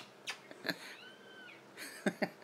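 A cat lets out several short, strained yowls and cries, close by, with a longer wavering wail in the middle and quiet between.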